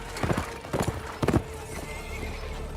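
A horse runs with hoofbeats in a few quick clusters, joined by a neigh or whinny that stands out briefly before the sound settles into a low steady background.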